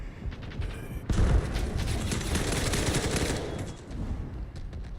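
Rapid automatic gunfire in a Delta Force video game battle, a dense, loud burst of shots with a sharp onset and a longer stretch of sustained firing, then a softer tail.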